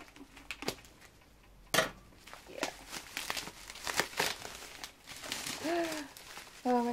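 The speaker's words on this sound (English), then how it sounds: "Cut it open." Album packaging being cut open and unwrapped, with bubble wrap crinkling, tearing and sharp crackles in irregular bursts, close and moderately loud, with a person speaking between the sounds.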